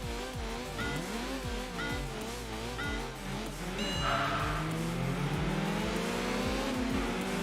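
Honda inline-4 engine in Enthusia Professional Racing revving hard toward a 9,000 RPM redline, a loud continuous game engine note with repeated rising sweeps and drops, climbing higher and sustained near the end.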